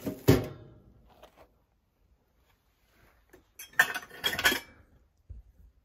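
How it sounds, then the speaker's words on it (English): Old silverware handled among collectibles in a hoarder's house: a sharp clatter at the start, then a louder burst of jangling metal clinks a few seconds later, with quiet gaps between. "Little silverware."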